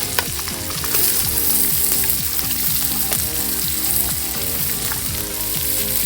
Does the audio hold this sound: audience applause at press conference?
no